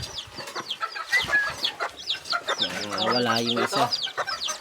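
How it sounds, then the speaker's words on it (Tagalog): Serama chicks cheep and peep in a busy, continuous chorus close by, with adult chicken clucking mixed in and a person speaking over part of it. "Ito ang mga sisiw."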